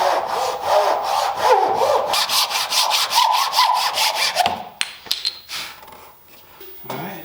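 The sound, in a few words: cutting maple workpiece along clamped plywood template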